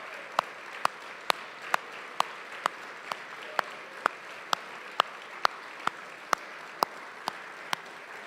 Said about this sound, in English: We'll give you the biggest round of applause to begin the night.